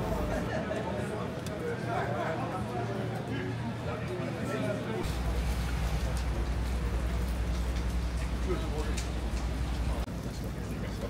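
Rain patters steadily on the camera and surfaces at the start of a stage of the Four Days of Dunkirk cycling race, a continuous dense hiss, with people's voices and crowd murmur beneath it.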